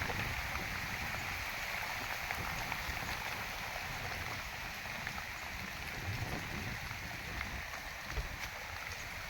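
Steady rain falls in a continuous hiss, a dense even wash of drops with no pauses.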